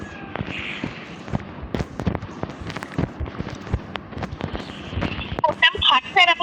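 Minecraft totem pops during a player-versus-player fight ring out as bright, crackling bursts over rapid combat hits and clicks, with voices talking throughout.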